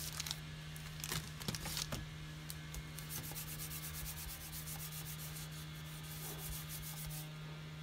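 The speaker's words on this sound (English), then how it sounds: "Rub it down with my embossing buddy." An embossing buddy is rubbed across a card surface, giving a soft, steady scuffing rub of several quick strokes, quiet and close, with no one talking.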